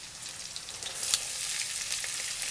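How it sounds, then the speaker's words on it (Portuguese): Onion and garlic fry in a pan with a continuous bright sizzle and crackle. Small pops come and go, close and steady, and no voices are heard. "vamos fritar bem essa cebola junto com o alho até ficar bem transparente"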